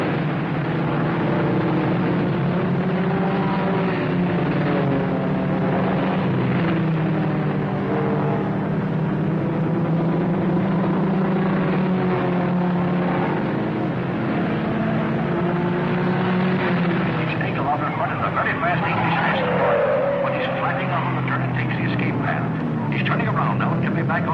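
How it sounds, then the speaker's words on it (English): Race cars, including a very hot number 17C, speeding around a track in a 1954 race, their engines droning steadily at mid distance under a commentator's voice. "Bill Myers at 55 is driving cautiously, seemingly just in after the ride, but he's being pushed by Lever Hatfield, who's driving that very hot 17C"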